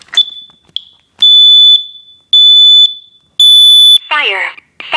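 A Kidde NightHawk smoke detector sounds its test alarm in loud, shrill high-pitched beeps, three long tones after a few short chirps, then a voice speaks at the end.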